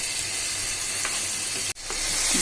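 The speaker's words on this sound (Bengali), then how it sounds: "এক চামচের মতো হলুদ গুঁড়ি দিলাম এবার এটাকে ভালোভাবে কষাই" Beef liver with turmeric powder stir-fried in oil, a steady loud sizzle and hiss with a few scraping stirs and one brief dropout near the end.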